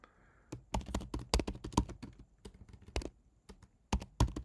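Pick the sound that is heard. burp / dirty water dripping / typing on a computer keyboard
typing on a computer keyboard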